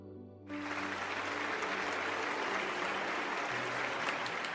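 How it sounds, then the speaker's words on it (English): In a video game, a crowd bursts into thunderous applause after a stage performance ends. The dense, loud clapping cuts in abruptly over the fading tones of the music and carries on steadily. "The performance ends and the curtains fall. We're separated from the thunderous applause."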